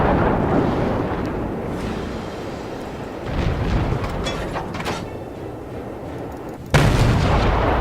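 Shells striking a warship in World of Warships, heavy booming gunfire and explosions rumbling continuously, with a louder burst of impacts near the end; no talking.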